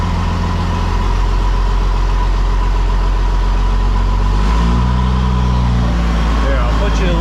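A Dodge Ram's 12-valve Cummins diesel idles with a loud, steady low rumble, and the pitch shifts slightly near the end while people talk close by.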